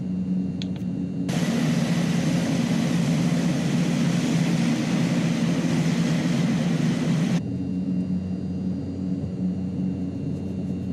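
Mitsubishi MU-2 turboprop taking off in Microsoft Flight Simulator: a steady engine drone, with a loud broadband roar of wind and engine rising at once for several seconds and cutting off sharply, then the lower hum carrying on alone.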